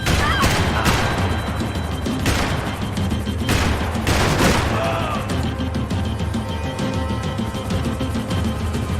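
Intense gunfire in the action game Max Payne 3 during a chase, with dense overlapping shots, heavy impacts and crashes continuing throughout.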